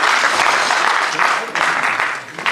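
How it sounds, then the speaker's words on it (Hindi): An audience at a theatre workshop claps loudly and continuously for performing children, a dense close wash of applause with a voice speaking over it. "ज़ोरदार तालियों के साथ इन बच्चों का खिदमत करें"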